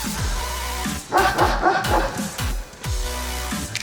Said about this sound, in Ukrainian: далі переходимо до вольєрів, де тобі, е, собаки наші проживають